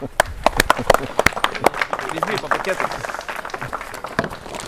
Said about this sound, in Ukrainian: Давайте ваші оплески.